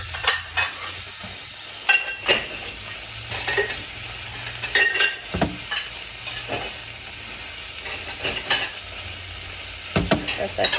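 Garlic frying in a pan for a tofu scramble, stirred with repeated scraping strokes over a steady sizzle, loud and close, no talking.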